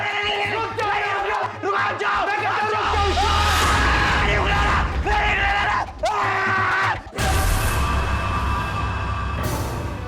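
A man screams and yells in a loud, strained outburst lasting several seconds, with harsh repeated cries over a background of other sound, in a Hindi crime drama scene.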